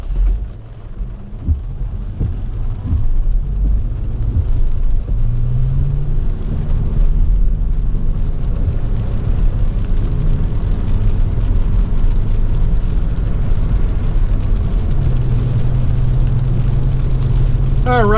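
Road noise and a steady low engine drone from a 2024 Toyota Venza XLE AWD cruising down the road, an even, continuous rumble with no voices.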